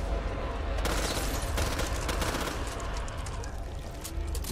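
Dense, continuous gunfire in the zombie shooter Back 4 Blood, with rapid automatic bursts and scattered shots layered over a loud, busy game mix for the whole stretch.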